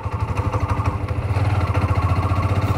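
A 2024 Hero Xtreme 125R motorcycle pulling away from low speed in fifth gear, its single engine throbbing in a steady, close pulse that firms up and grows slightly louder as it gains speed, with no talking.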